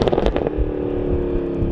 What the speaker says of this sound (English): it'll like crack as you shift.